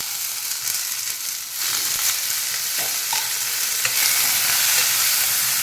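Onions and tomato frying in oil for gongura chutney, a loud, dense, close sizzle running continuously, swelling after a stir and again near the end, with faint scraping.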